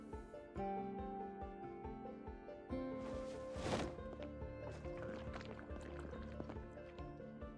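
Water being drunk in the Project Zomboid video game, a soft liquid gulping and sloshing effect that swells briefly in the middle, faint under sustained background music.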